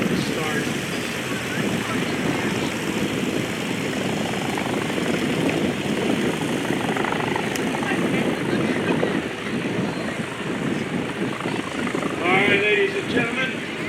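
A World War II FM-2 Wildcat fighter plane races a car at the 2025 Westmoreland County International Airshow, its propeller engine droning steadily and loudly throughout, with a brief surge near the end and faint crowd or announcer voices underneath.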